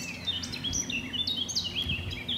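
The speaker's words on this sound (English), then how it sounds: "I wonder what bird that is singing over there." A bird sings in Ashdown Forest, giving quick, high chirps and short warbled phrases at moderate distance over a faint steady background hum.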